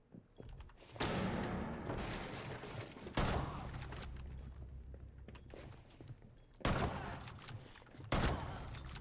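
Shotgun blasts in Rainbow Six Siege gameplay, three or four loud booming shots spaced a few seconds apart, each trailing into a decaying rumble with faint footsteps and movement between.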